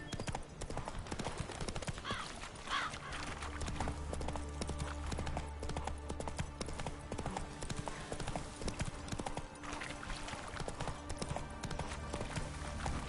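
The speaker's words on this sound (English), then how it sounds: "Come here, horse. Giddy up. Giddy up." Steady clip-clop of a horse's hooves in The Witcher 3 runs throughout, a quick regular trotting rhythm with faint background noise and little else.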